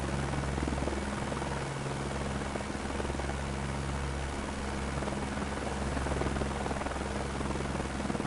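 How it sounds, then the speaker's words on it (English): A helicopter flying in Microsoft Flight Simulator 2024 on PS5: a steady, loud rotor drone with constant engine whine and a throbbing low hum, unbroken throughout with no talking. "It is really fun to fly helicopter."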